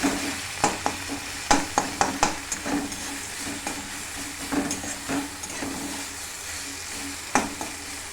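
Tomato, chili and ginger hit hot oil with a five-spice tempering, sizzling steadily while repeated sharp clatters of stirring and scraping land close by throughout.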